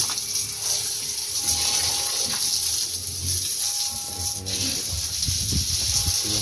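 Water running steadily from a hose or tap while pigs are bathed in a pen, a continuous splashing gush with faint animal and background noises, with no words spoken.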